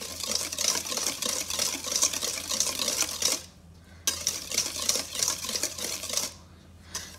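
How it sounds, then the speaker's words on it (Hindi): Egg and sugar whisked by hand in a bowl for milk chocolate brownies, a fast, rapid clatter of the whisk against the bowl in two bursts separated by a short pause, close and fairly loud. "एग और शुगर को अच्छे तरीके से मिक्स करूंगी"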